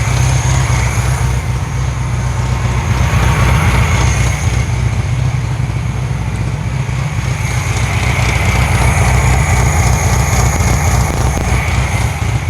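A 1968 VW Karmann Ghia with a 1600cc engine idles hot and slightly choppy, a steady, loud, close rumble running alone without a break.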